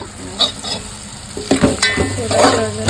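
Ginger and whole spices frying in a mix of ghee and oil in a home kitchen, loud close sizzling with stirring clatter and intermittent bursts of spattering.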